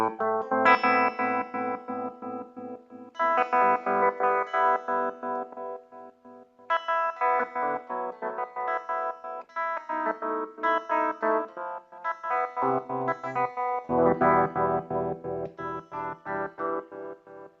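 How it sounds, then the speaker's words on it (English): Instrument notes played through a Sonuus NuMuBu pedal chop into sharp on-off pulses from a square-wave tremolo, rhythmic stuttering bursts running steadily across several phrases with varying pitch and no talking. "using a square wave rather than a sine wave for the tremolo, and get something that pulses"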